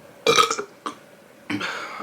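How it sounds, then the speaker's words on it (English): A loud, close burp during a mukbang of Little Caesars pretzel crust pizza, a throaty retching-like belch in a few separate gulping bursts with quiet gaps between. "I keep having these burps where it sounds like I'm about to throw up"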